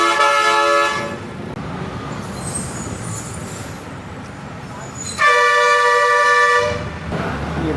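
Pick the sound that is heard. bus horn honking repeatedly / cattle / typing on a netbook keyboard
bus horn honking repeatedly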